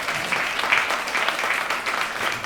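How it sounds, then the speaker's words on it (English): An audience applauds at a women's leadership event, a dense, steady clatter of many hands clapping that fills the room for a few seconds. "thank you we can now applaud"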